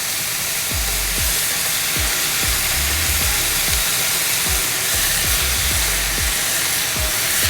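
Garlic and spring onions sizzle and hiss steadily in a hot pan of beef stir-fry, a loud continuous frying noise with faint periodic knocks underneath.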